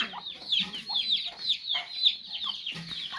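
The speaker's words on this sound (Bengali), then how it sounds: "এগুলো দেশি হাঁস আর এগুলো হয়েছে জয় হাঁস চীন হাঁস" Local desi ducks and Chinese ducks in a village give a steady string of sharp, fairly faint quacks and clucking calls in quick rhythm, with little else around them.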